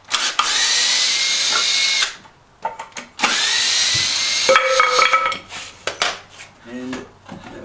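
A power drill backs screws out of a 1973 Honda CB750 during engine install work, with two long loud whirring runs and shorter bursts, then metallic clinks and rattles of parts handled up close.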